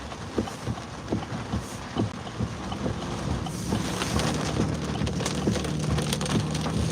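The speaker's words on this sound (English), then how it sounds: "There was no rain in the forecast. Now all of a sudden it's just coming down like a big dog." Heavy rain pours down in a sudden downpour, a dense, steady hiss with scattered drips and knocks on hard surfaces, building slightly louder midway and continuing without any voices.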